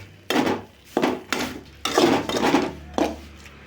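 Perandai chutney being sautéed in a pan, a spoon or spatula scraping and knocking against the metal in several distinct strokes with short pauses between them, no voices.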